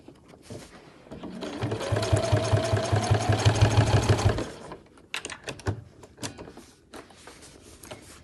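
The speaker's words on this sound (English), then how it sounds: "This is the area where some lighter weight sewing machines might struggle on these corners." A sewing machine stitches binding on a backpack in a rapid, steady burst for a couple of seconds, then stops, followed by soft handling noises and fabric rustling.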